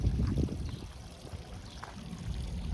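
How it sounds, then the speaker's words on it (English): Water steadily splashes and trickles from a decorative front-yard waterfall on a residential street in Howard Beach, Queens, a continuous close wash of flowing water with no one speaking. "So now I think it's 11 unique front yard waterfalls."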